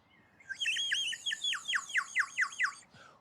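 A small toy instrument shaped like a manu bird, looking like a woodpecker, whistles a quick run of about a dozen bright, warbling chirps. The chirps are close and clear, then stop abruptly.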